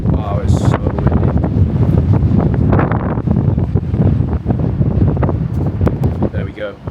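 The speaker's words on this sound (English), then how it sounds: "Wow, it's so windy." Strong wind buffets the microphone on an open wraparound balcony, a loud, continuous roar with gusty surges throughout.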